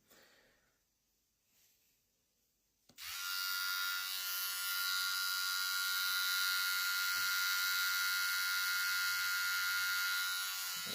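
A VGR V-961 hair trimmer switches on after a few seconds of near silence and runs with a loud, steady, high-pitched motor buzz that holds constant to the end.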